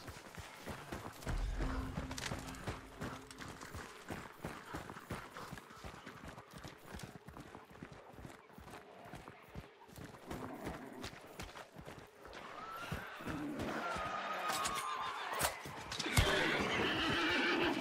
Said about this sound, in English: Shush up, horse.